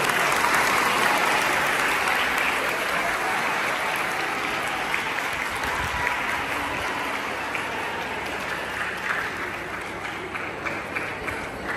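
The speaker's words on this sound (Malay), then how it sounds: "Sekali lagi sama-sama kita berikan tepukan yang gemuruh" Thunderous applause from an audience at a school retirement ceremony for teacher Faridah Hashim, with continuous clapping throughout that slowly eases in loudness toward the end.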